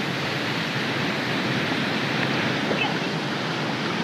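Steady broadband rush of a waterfall at a camping spot near Mount Surprise, a constant roar without breaks filling the whole scene, close and fairly loud.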